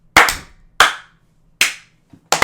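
Sharp hand claps made for recording sync, four separate loud, close cracks spaced irregularly, each decaying quickly into near silence, with a faint hum between them.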